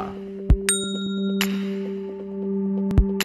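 A notification bell sound effect for a subscribe button gives several crisp, bright dings with ringing tails. The strikes are spaced irregularly over a steady tonal hum, loud and close, with no talk.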